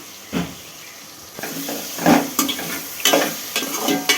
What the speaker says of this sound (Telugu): కరేపాకు వెల్లుల్లిపాయలు వేసేసుకుంటున్నాం జీలకర్ర కూడా వేసుకుంటున్నా